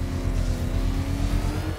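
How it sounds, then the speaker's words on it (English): Batmobile engine in the video game Batman: Arkham Knight revving hard, a loud sustained low rumbling roar that holds steady throughout with no talk. "Rev that engine!"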